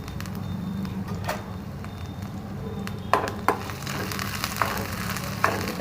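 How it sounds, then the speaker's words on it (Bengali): Grated ginger and chopped garlic sizzle steadily in hot oil in a pan on low heat, a continuous close frying hiss broken by a few sharp utensil taps. "এটাকে একটু ভেজে নিচ্ছি"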